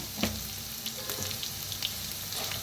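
Onion and potato with turmeric sizzle and fry in a pan, a steady crackling hiss with faint scraping stirs, close and alone with no talk.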